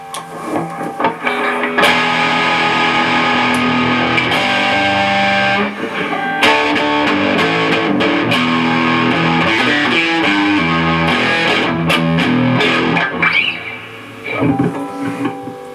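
An electric guitar plays through heavy overdrive, with gritty sustained chords and riffs that ring out loud and close, pausing briefly between phrases.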